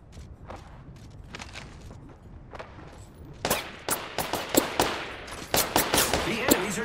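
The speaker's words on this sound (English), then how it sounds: "The enemies are shooting at me" Enemy gunfire in Apex Legends: scattered shots at first, then sharp, loud bursts of automatic fire crack repeatedly in the second half, with faint footsteps and some voice underneath.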